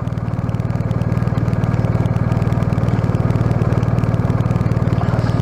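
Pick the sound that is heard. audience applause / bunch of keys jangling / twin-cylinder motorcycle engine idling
twin-cylinder motorcycle engine idling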